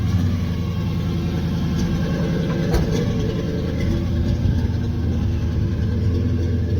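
An old car engine idles steadily while warming up in a garage, a continuous low rumble with a faint rhythmic chug close by, with no talk and no break over the whole stretch.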